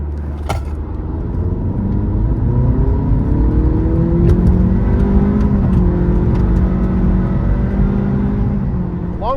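A 2023 Acura Integra engine revs hard past its VTEC crossover around 5,000 RPM, climbing steadily in pitch, a loud continuous mechanical roar that rises and swells throughout.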